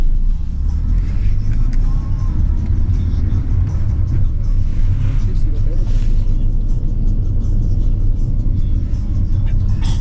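Low, steady engine rumble from inside a bus heading toward a border crossing on the way to Chisinau, continuous and fairly loud throughout with faint cabin noises above it.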